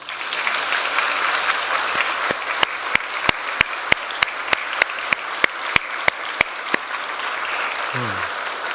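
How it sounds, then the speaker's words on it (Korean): Congregation applause during an evening worship service after an infant baptism, broad crowd clapping with a string of sharp, evenly spaced louder claps standing out in the middle, then trailing off. "박수로 축복할까요?"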